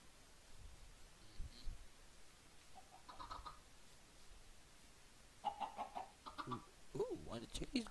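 Clucking chickens from the farm video game Farm Frenzy, faint, scattered short calls with a brief game chime, heard under quiet background sound.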